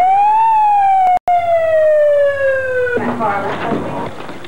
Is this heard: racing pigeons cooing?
no